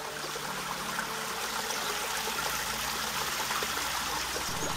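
Water from healing springs in a shaded park at Caldas de Monchique in the Algarve trickles and splashes steadily, a soft continuous burble heard at close range with no voices.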